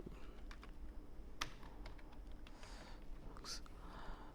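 Quiet keystrokes on a computer keyboard, close by, tapping in short irregular bursts with a few sharper clicks over faint room noise.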